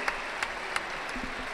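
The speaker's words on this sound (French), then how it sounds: "Applaudissez-les encore un petit peu plus." Audience applause after an elite men's 150 boxing final bout, a fairly faint, steady clapping with a few sharper claps standing out near the start.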